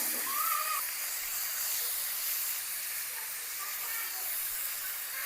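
Water poured into a pan of frying mixed vegetables with broccoli and spices over low heat, giving a steady, even hiss of sizzling steam that holds for several seconds.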